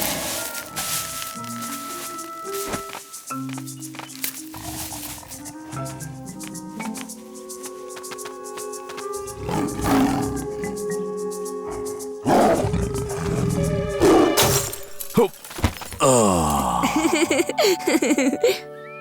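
A tiger in a Tamil-dubbed animated Jungle Book episode lets out loud roars and growls amid music and other cartoon sounds, with voices and laughter mixed in.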